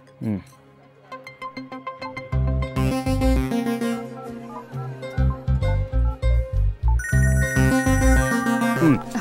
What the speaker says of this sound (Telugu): నేను నా ఫోన్లో రింగ్ టోన్ ఆన్ చేసుకుని పక్కకి వెళ్తాను